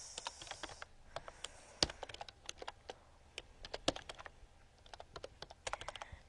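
Quiet, irregular clicking of keys on a computer keyboard, with a couple of sharper key strikes standing out among the light, uneven patter.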